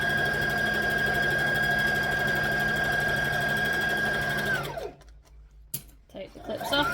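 A sewing machine stitches and back-stitches a seam on a library bag, a loud steady motor whir with rapid needle chatter that winds down and stops, then brief handling clatter follows as a voice talks.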